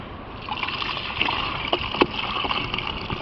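Fresh, partly congealed blood poured into a homemade catfish feed mix, a close wet trickling and glugging with a few soft splashes and thick plops.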